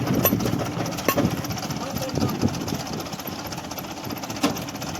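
A tractor engine runs with a rough, knocking chug while the stuck machine is pulled out over stones, steady throughout with voices talking nearby.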